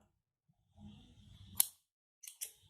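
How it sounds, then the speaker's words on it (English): Scissors snip through crochet yarn in one sharp cut, followed a moment later by two lighter clicks of the blades, close and alone after a soft rustle of handling. "Do chain 1 and snip off this yarn."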